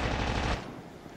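Rapid automatic BY-15 gunfire in a battle royale video game, a dense loud burst of shots lasting about half a second before dropping to a quieter tail of fading reports.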